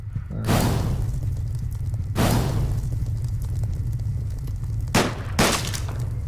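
Shotgun blasts in the pixel-art action game Deadbolt, three heavy booming shots spaced a couple of seconds apart, each with a rumbling tail over a low game soundscape.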